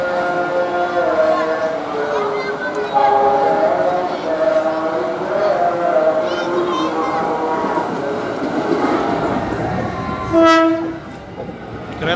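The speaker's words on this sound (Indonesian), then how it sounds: "Kereta jurusan Cikarang." An electric commuter train bound for Cikarang rumbles past nearby with rhythmic wheel clatter, then sounds a short horn blast near the end; a voice speaks briefly underneath.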